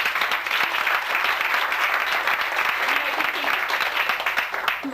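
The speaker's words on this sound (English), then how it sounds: "Let's give them all a round of applause." Guests at an 80th birthday party applaud in a steady, fairly distant round of clapping, with a few voices murmuring underneath.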